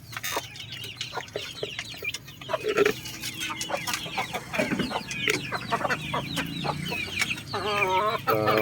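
Chickens in a Filipino breeding pen cluck repeatedly at close range, with a broadcock among them; short overlapping calls and squawks continue throughout, turning into a rapid run of clucks near the end.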